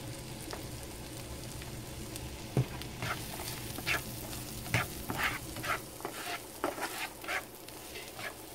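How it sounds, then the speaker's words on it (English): Chopped onion sautés in melted butter in a pan, a low, gentle sizzle overlaid with repeated scraping stirs that grow busier in the second half, close but faint, with no speech. "And then we can put our onion. Saute lang natin."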